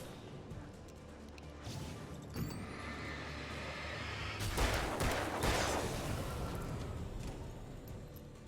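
Gunfire in the Alan Wake video game, with a dense burst of shots and crashing impacts mid-clip over a rumbling game soundtrack, fairly loud and without talk.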